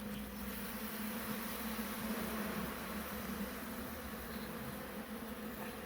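Honeybees hum steadily inside a hive in February, a dense, even buzz of many wings that holds close and unbroken throughout.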